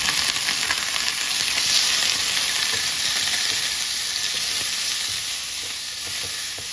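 Shrimp stir-frying in a pan with golden fried garlic for a broccoli and shrimp dish: a steady, loud broadband sizzle with faint scraping stirs, continuous throughout and tapering slightly near the end.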